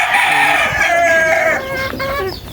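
Farm chickens call at close range: a rooster crows loudly in long, drawn-out notes while hens cluck around it, with no talking.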